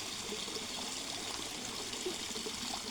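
Water flows steadily along an open channel on a small farm in Cavite, a continuous trickling, rushing wash with no breaks, close and even throughout.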